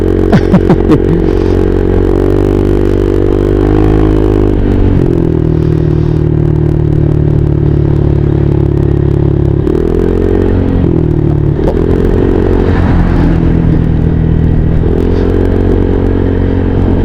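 A motorcycle rides at night with a steady, loud engine drone close by, its pitch shifting several times as it slows and speeds, while clattering knocks from a pothole come through early on.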